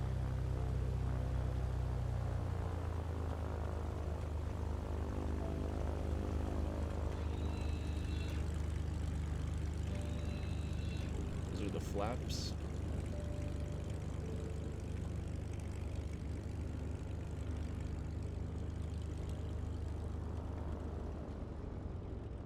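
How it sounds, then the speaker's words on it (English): Lancair propeller plane in a flight simulator game, its engine running up on the ground: a steady, low droning hum with a constant rumble carries on alone, and someone speaks briefly partway through. "We'll take the chocks off and we can do a kind of an engine run-up"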